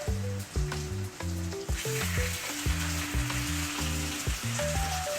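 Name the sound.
potatoes frying in a pan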